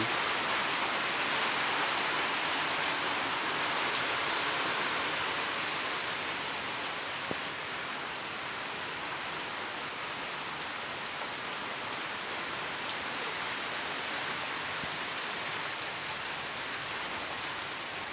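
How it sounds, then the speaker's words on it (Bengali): Steady rain falls in a cloudy Padma riverside village, a dense even hiss of drops on surfaces that holds constant throughout with no voices. "দেখতে পাচ্ছেন বৃষ্টি নেমে পড়েছে"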